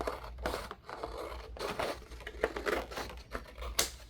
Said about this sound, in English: I have another pair of these scissors, very easy action scissors. I think I'm going to cut a few of these out.